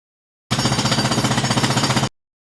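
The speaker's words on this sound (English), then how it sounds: "Number 8. Jackhammer." A jackhammer pounds in a rapid, steady burst of regular hits for about a second and a half, loud and close, then stops abruptly; no voices.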